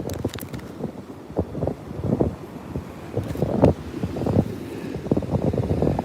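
Beach wind buffets the microphone in uneven gusts, rumbling and swelling loudly throughout with no voices.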